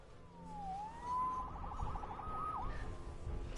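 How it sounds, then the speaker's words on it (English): A wailing siren in a PS4 video game sweeps up and down in pitch, warbling rapidly midway, fairly faint over a low rumbling background. "Saved by the siren."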